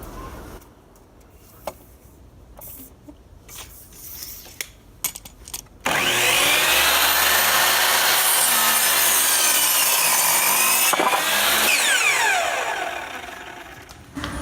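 A wooden board is sawn for dock repair: after some scattered handling knocks, a loud, close power saw bites in and cuts steadily for about six seconds before winding down.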